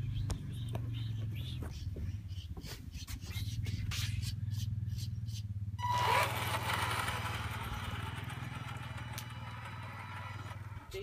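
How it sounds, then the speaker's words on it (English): A diesel engine from an RC car day runs steadily at a low idling drone throughout, with scattered clicks and a rush of broadband scraping noise partway through. Faint whispery voices sit under it. "Diesel engine."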